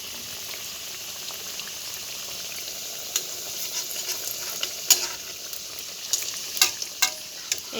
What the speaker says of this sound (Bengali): এবার আমি তেলের মধ্যে দিয়ে দেবো নাস্তাটা